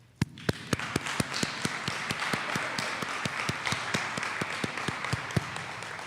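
A meeting audience applauds city recreation and parks staff, with steady, evenly spaced loud claps over a dense wash of clapping that runs for several seconds.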